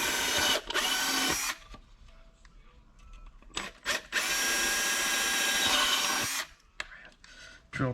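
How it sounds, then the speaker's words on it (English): A power drill bores through an off-road truck lamp housing in two loud bursts, the longer second one running several seconds, with quieter handling sounds between them. "Drill through it."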